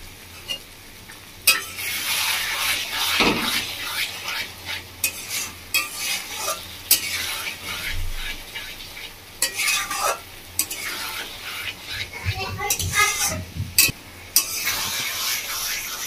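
Water poured into a frying pan where fish is cooking in oil for a tangra fish curry, with steady hissing sizzle and repeated scraping stirs and spoon clinks throughout, fairly close, no talk.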